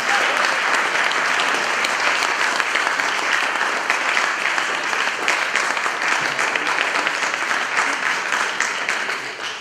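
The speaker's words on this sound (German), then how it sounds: "Vielleicht mal einfach einen herzlichen Applaus für ihn." A live audience breaks into warm, steady applause after a guest is introduced, a dense sustained wash of clapping that stays loud and even throughout before tapering slightly at the end.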